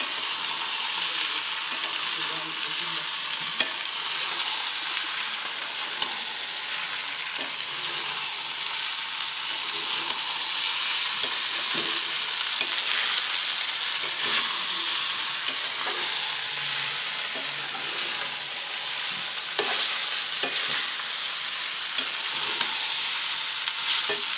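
Soaked sabudana stirred in a kadai over heat, a steady hissing sizzle throughout with occasional light scrapes and taps of the spoon, close and even.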